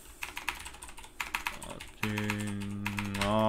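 Fast, hard rage typing on a computer keyboard during a Paladins game, close and continuous clatter of keys, joined midway by steady tonal game sounds underneath.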